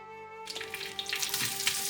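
Cinnamon, cloves and cardamom drop into hot oil and burst into a loud, crackling sizzle that keeps up close and bubbling, behind a steady background hum.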